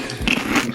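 A quick bite into a play dough pizza slice, a short close squishy bite sound lasting under a second.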